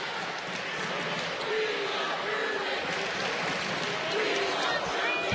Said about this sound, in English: Crowd chanting right now, we want the walk-ons.